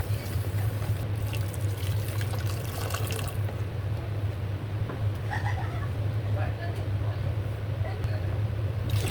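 Water poured into a cooking spice mix for doi ilish (hilsa in yogurt curry), a steady continuous wash of liquid against a low background hum.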